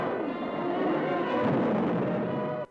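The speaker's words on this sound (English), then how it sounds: "they also give one of the lamest explosions I've ever seen in a movie" A dull, muffled grenade blast from the 1952 film The Jungle swells and rolls for a couple of seconds with little punch, then cuts off abruptly.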